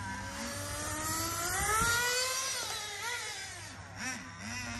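A brand-new nitro RC car engine screams at full throttle, its high whine climbing and falling in pitch as it revs and passes by, loud and steady at mid distance, with no voices.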